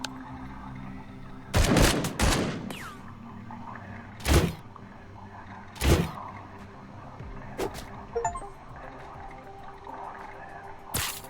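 Gunfire from the turn-based game Encased sounds in loud, spaced single shots and a quick double burst, each sharp crack trailing off, with faint mechanical whirs and clicks between them.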